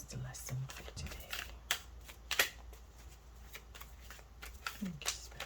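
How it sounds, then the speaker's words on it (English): Tarot cards being shuffled in several quick riffling bursts, close by, with soft handling noises between them and a voice speaking in places. "I feel like I need to shuffle it again"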